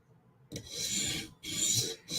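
A knife sharpened on a sharpening stone makes three close rasping strokes, each a gritty scrape of about half a second to a second, separated by brief pauses.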